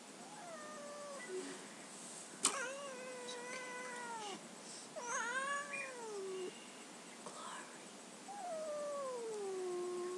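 A female cat meows and caterwauls in long, drawn-out, wavering cries, several in a row with short pauses, close and fairly loud, with a brief sharp knock partway through.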